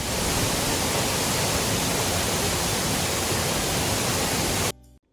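Hilton Falls waterfall roars with a dense, constant rush of falling water, loud and close, before the sound cuts off abruptly near the end.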